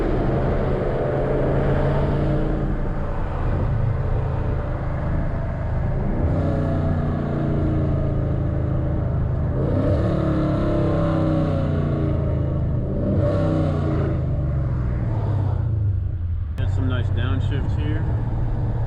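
Dodge Challenger ScatPack V8 heard from inside the cabin while driving, a constant deep engine rumble that swells with revving and rev-matched downshifts, while someone talks over it.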